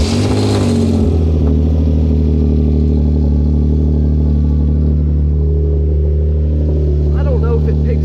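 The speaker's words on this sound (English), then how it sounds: "It's a pretty heavy rattling sound coming from the downpipes area." A Genesis Coupe idles close by with a deep, steady engine drone, and a heavy rattle from around the downpipes runs continuously through it.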